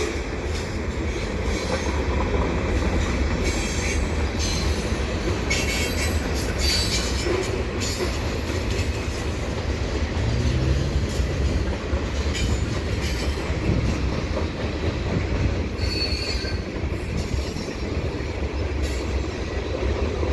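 A heavy eastbound mixed freight train rumbles past up close at Dorval, wheels clattering and squealing on the rails, with a continuous loud roar that holds for the whole stretch.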